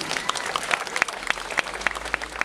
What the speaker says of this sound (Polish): Tomek Jadłowiec, wielkie brawa!